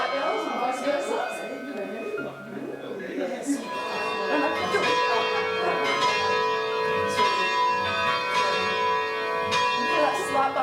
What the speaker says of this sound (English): be swinging a bell that weighs about as much as your car around in circles for about 3 hours